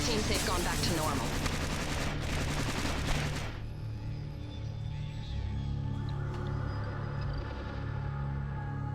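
Pistol gunfire in the video game Splinter Cell: Pandora Tomorrow crackles in a dense, loud volley for about three seconds, then breaks off into a lower rumbling game ambience.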